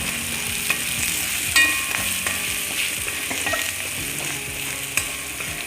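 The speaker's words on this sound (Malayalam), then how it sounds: "ഒരല്പം മഞ്ഞൾപ്പൊടി നന്നായിട്ടൊന്ന് ഇളക്കി കൊടുക്കാം" Oil sizzles steadily in a pan as turmeric is stirred in for a breadfruit fry, with a spatula scraping and tapping at intervals over the close, constant frying hiss.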